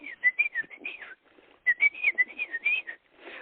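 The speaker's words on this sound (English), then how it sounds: "This was a Carolina wren." Carolina wren song, two rapid bursts of quick repeated whistled phrases in ascending triplet notes, clear and fairly close with a short pause between them.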